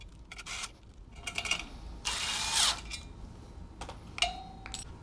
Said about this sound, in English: So I'll tighten down some of these just to hold the disc in place.